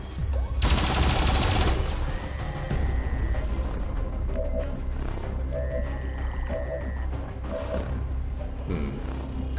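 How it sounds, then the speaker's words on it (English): Automated turrets fire in the video game XCOM 2 (War of the Chosen): one loud, dense burst of gunfire early on, followed by quieter scattered shots and electronic game tones. "Oh, but we can still take shots with these turrets."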